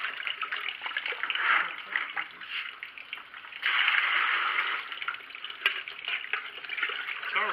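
Water trickles and splashes through a homemade sand filter, a continuous hissing, bubbling flow that swells louder midway, heard close up with no talk over it.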